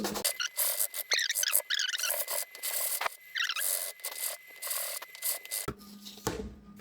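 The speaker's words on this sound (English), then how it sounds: "It's time to trim the back side, because as you can see, the back side is not actually fully straight and flat, so we are going to do that using the sandpaper" Sandpaper rasps against the back face of a homemade plastic Beyblade top being flattened, in quick, close, scratchy strokes with brief pauses and no talking.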